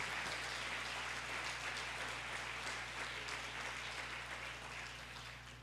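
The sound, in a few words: church congregation applause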